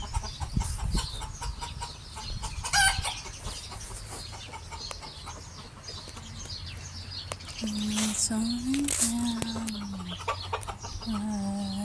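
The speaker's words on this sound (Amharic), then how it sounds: "እዛ ሞልተዋል ዶሮች" Chickens cluck and squawk in a busy yard, with a rooster-like call rising partway through, while people talk over the flock.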